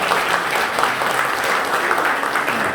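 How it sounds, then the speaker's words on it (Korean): A church congregation at a retirement ceremony claps steadily and loudly for a few seconds, a dense, even wash of applause with no talking. "우리 하나님께 영광의 박수 한번 올리겠습니다"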